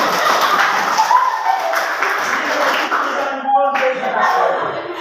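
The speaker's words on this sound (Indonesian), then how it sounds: "Salah. Tepuk tangan untuk sebelah" Schoolchildren in a maths class clap for the classmate beside them, a sustained patter of hand claps mixed with chatter and voices.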